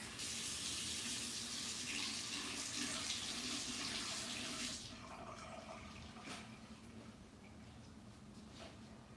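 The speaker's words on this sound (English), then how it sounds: "I wash my brush." Tap water runs loudly into a sink as a paint brush is rinsed for about five seconds, then the flow stops and only faint drips and handling noises remain.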